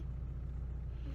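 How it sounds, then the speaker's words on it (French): Car engine idling as it warms up early in the morning, a steady, low, muffled rumble heard from inside the vehicle, fairly quiet and unbroken, with no talking. "Le moteur chauffe"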